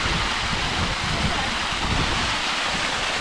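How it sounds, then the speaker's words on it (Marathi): A waterfall on the way to Naneghat pours down as a loud, continuous broadband rush of water, heard from close by without letup. "पण आम्हाला वाटेत हा सुंदरसा धबधबा दिसला."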